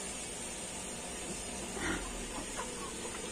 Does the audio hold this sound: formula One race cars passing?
no